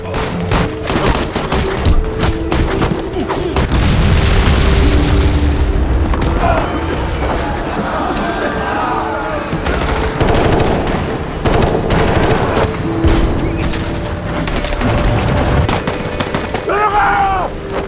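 Film gunfight in a war drama, with bursts of machine-gun fire, rapid gunshots and heavy booms of explosions that run continuously and loudly, layered over a dense battle soundscape.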